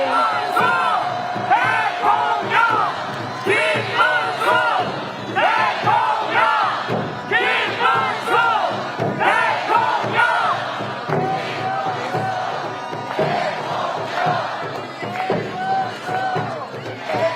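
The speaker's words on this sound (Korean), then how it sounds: "여러분 큰 박수와 함성으로 맞아주시면 고맙겠습니다." A crowd at an outdoor campaign rally in Seoul greets a presidential candidate, with loud rhythmic chanting and shouting in bursts and clapping and cheering underneath.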